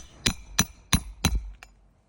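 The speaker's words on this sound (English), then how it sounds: "now it's just going all the way across on every nail that I'm hammering into this sucker" A hammer drives nails into wood: four sharp, evenly spaced strikes ring out close and loud, followed by a couple of faint light taps.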